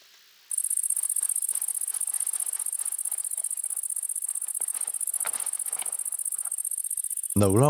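A cricket chirps in a rapid, steady, high-pitched pulse that runs continuously and close by in open wild terrain, then a brief warbling tone cuts in at the very end.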